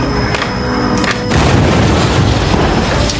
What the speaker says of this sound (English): Following a massive explosion, the transport tunnel was covered in smoke.